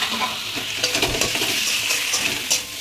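Mutton with papaya and spices stir-fried in a pan: a steady close sizzle with quick scraping strokes of a spatula against the pan, fairly loud and continuous without talk.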